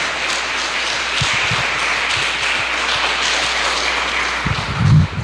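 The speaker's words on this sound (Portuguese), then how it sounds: "Vamos aplaudir o Senhor Jesus." Church congregation applauding during a Sunday family service, a steady broadband wash of many hands clapping throughout, fairly loud and close, with a few sharper louder claps near the end.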